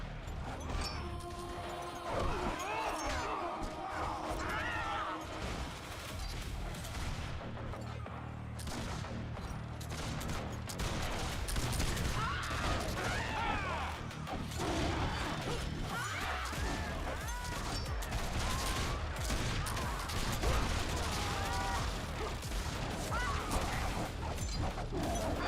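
Cannons fire in a Warhammer Online battle on a staircase, a dense, continuous clatter of booms, crashes and mechanical noise that stays loud for the whole stretch, with a voice faintly under it.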